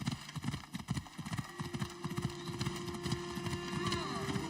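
Horse hooves clip-clop in a quick, steady rhythm while a horse is ridden in Assassin's Creed Odyssey. The footfalls are close and continuous, with a faint game backdrop and some speech underneath.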